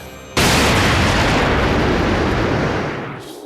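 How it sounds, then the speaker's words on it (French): A huge Big Bang explosion bursts in abruptly after a brief hum, a loud roaring blast that holds and slowly fades over a few seconds. "Puis il y eut le Big Bang."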